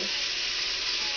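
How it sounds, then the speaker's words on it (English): Carrots and onion sauté in a pot with a steady, close hiss of frying that stays even and unbroken throughout. "once these, the carrots and onion have sauteed for 5 minutes"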